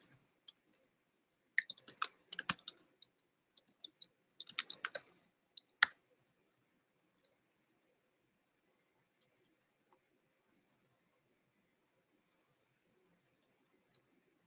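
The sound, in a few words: typing a file name on a computer keyboard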